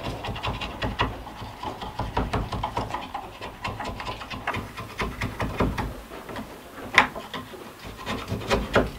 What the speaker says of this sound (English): These are the ones that I basically carve with, and I need a smaller chisel, like that quarter inch chisel right there.